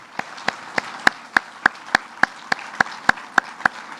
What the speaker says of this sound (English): I want to give our New York State commissioners another round of applause